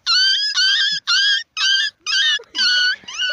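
A grown dog and a puppy howl together in loud, drawn-out wails. Seven separate howls follow one after another with short gaps between them, close and clear, with no talking.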